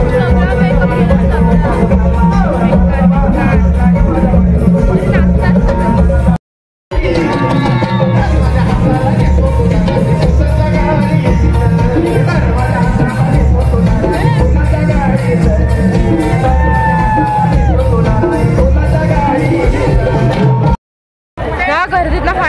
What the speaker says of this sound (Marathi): बेकार गर्दी आहे.